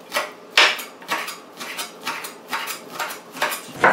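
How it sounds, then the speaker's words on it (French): A knife cuts onions on a board in a kitchen, close sharp chopping strokes repeating in an uneven rhythm, about a dozen cuts with no talk. "je vais couper les oignons"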